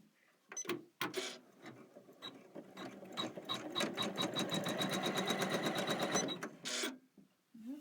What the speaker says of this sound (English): it's going to stitch out the entire template